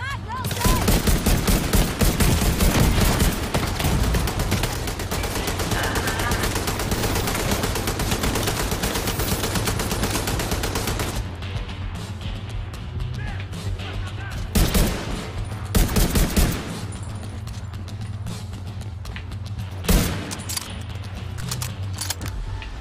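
Sustained gunfire from a video game firefight, dense bursts filling the first half, then sporadic louder shots over a steady background hum with occasional reload pauses.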